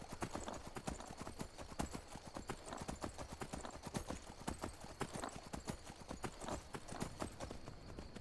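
Horse hooves in Skyrim clip-clop in a brisk, continuous galloping rhythm, close and steady for several seconds, with no one speaking over them.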